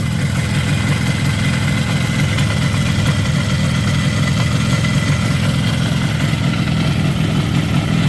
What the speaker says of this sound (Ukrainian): Навіть чуть як поршні ходять.